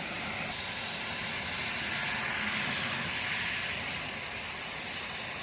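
Steady, loud hiss of hot water spraying and steaming, broad and continuous with no breaks throughout.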